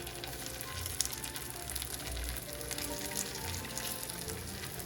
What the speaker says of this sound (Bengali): একই ফ্রাইং প্যানে আসলে আমি হ্যাশ ব্রাউনটাও সুন্দর করে গরম করে নিচ্ছি।